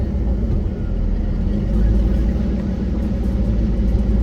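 An off-road vehicle crawls along in four-wheel-drive low, second gear, out in the desert, its engine giving a steady, loud low rumble that holds throughout with no breaks.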